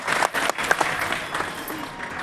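An audience applauds during a live Hindu religious discourse at the Prayagraj Maha Kumbh. Dense, steady clapping fills the whole short stretch, with some voices mixed in.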